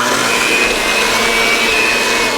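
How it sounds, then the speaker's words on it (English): An electric hand mixer beats chocolate chip cookie dough ingredients, giving a steady, loud motor whir that runs unbroken from start to finish with no pauses. "I'm using a hand mixer to mix all the ingredients together at this point."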